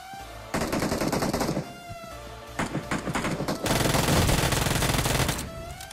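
Gunfire and explosions in BGMI, the mobile battle royale shooter: bursts of rapid automatic fire in several volleys, with a louder sustained blast of combat noise near the end, close and dense.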